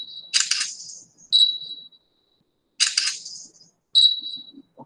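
Two camera shutter clicks for stop motion animation, each a sharp snap paired with a high electronic beep and separated by a pause of about two seconds, close and alone in near silence.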